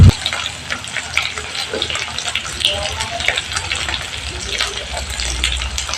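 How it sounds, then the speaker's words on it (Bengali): Cauliflower curry base of ginger and chilli paste in oil being stirred in a pan, a steady close sizzle and watery hiss with scraping movements throughout, no voices. "এবার আমি একটু ভালো করে নেড়ে নিচ্ছি।"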